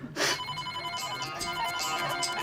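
A telephone rings with a repeating electronic ringtone while a call is being placed, clear and fairly close, with no talk over it.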